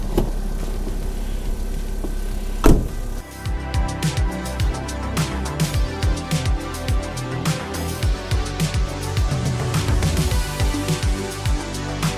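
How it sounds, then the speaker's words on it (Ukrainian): A car engine idles steadily, its low mechanical hum and regular ticking pulses continuing throughout after a brief knock near the start. "Зараз трішки прогріваємо автомобіль"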